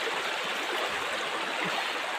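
Water rushes steadily from a stream or small waterfall, an even, continuous flow with no voices.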